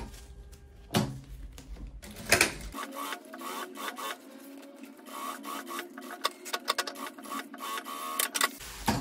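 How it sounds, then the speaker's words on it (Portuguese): A sewing machine runs in fast rhythmic bursts while stitching the fabric of a lunch bag, a close mechanical rattling whir that starts and stops with brief pauses and a few handling knocks. "E vou costurar."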